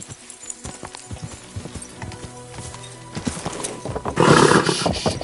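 Horse hooves clop in a steady rhythm, mixed with occasional snorts and background game sounds, growing louder toward the end.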